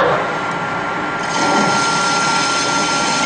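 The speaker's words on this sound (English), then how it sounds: "This will allow me to cut the chamfer on the outside edge here, because I don't want any sharp edges." A metal lathe turns a chamfer on the outer edge of a steel part, the tool nosed in at 45 degrees, giving a dense, continuous whirring, hissing cut that holds steady and close for a few seconds with no voice over it.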